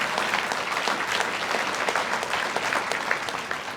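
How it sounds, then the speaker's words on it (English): Banquet audience at a Wisconsin technical college ambassador event giving steady, dense applause that fills the room at an even level, with a faint voice beneath it. "So one more round of applause for those supportive staff and administrative staff."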